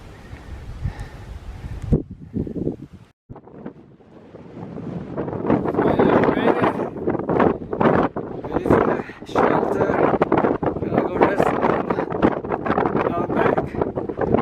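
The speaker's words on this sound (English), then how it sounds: "So windy here" Strong gusting wind on the Mount Whitney Trail at freezing temperatures buffets the microphone in heavy, roaring bursts that build and stay loud, with a voice briefly audible early on.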